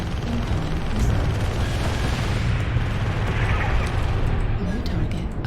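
Incoming missiles burst into heavy, rumbling explosions around a Cougar mech during a MechWarrior Online battle on Emerald Vale, with a loud, continuous roar and scattered blasts.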